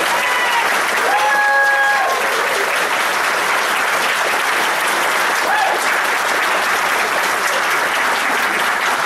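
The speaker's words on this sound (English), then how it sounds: "big round of applause, please" Steady, full applause from a convention audience at a fan festival, loud and sustained for several seconds with a brief voice heard near the start.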